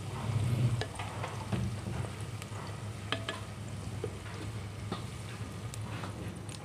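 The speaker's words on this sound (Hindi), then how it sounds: "प्याज नूं असी थोड़ा हाफ फ्राई रखांगे" Onions sizzle in a pan while a spoon stirs them in scattered scrapes, for a half-fry in a Punjabi curry. A steady low hiss runs throughout with intermittent clicks of the utensil, close and moderately loud.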